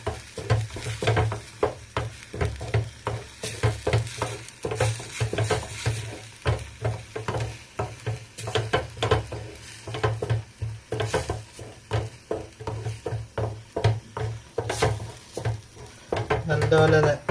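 Masala paste for fish curry sizzles loudly in a pan while a spoon stirs it in a quick, steady rhythm of scrapes and knocks that runs throughout, close and continuous.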